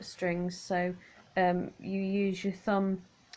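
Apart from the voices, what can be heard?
No everyday noises stand out.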